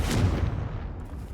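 A heavy, booming Confringo blast spell explodes in Hogwarts Legacy, striking loud and close and then rolling away into a fading rumble.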